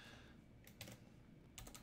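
Quiet computer keyboard typing during a SOLIDWORKS session, two short soft bursts of key clicks over faint steady background hiss.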